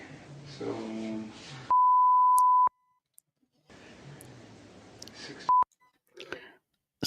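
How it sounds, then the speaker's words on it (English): Two steady electronic censoring bleeps cut into muffled courtroom trial audio, one long and one short, each abruptly silencing the voices around it. "So those beeps are when they're blocking things out"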